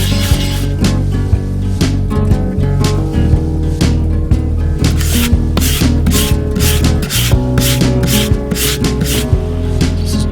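2000 grit sandpaper rubbing rhythmically against the back of an antique drawknife, steady close strokes of scratchy friction repeating roughly twice a second, loud and alone.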